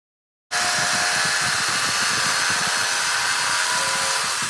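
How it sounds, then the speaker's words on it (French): Jigsaw cutting through a laminate parquet board, a steady close buzzing whine with rapid blade chatter starting abruptly after a short silence and running continuously at high level to the end. "Quand vous avez découpé le bout que vous avez besoin à la scie sauteuse"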